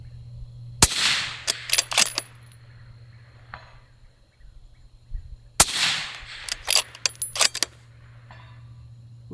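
Two loud, sharp rifle shots from a Springfield Waypoint 6.5 Creedmoor, each followed by several fainter distant impacts or echoes, with a steady low hum underneath.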